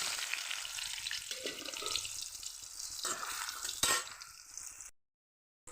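Slices of young ash gourd frying in a pan, a soft steady sizzle with a few scraping stirs and a sharp clatter, fading out into silence near the end.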